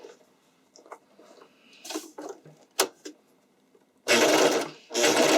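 Sewing machine stitching a bikini top: a few short, quiet stitch bursts and handling taps, then two longer loud whirring runs of rapid stitching close up, no talk.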